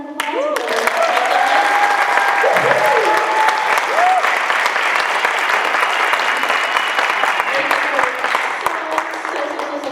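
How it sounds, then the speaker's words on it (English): Loud sustained audience applause for an elementary school chorus at a winter concert, a dense wash of clapping from a large crowd with cheers and children's voices mixed in throughout. "Can we give them one more round of applause?"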